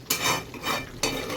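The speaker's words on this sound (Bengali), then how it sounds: "একটু নাড়িয়ে নিই ভালো করে।" A spoon stirs Bengali mutton curry with potatoes in a pot, making three scraping, sloshing strokes close by, each starting with a sharp scrape against the metal.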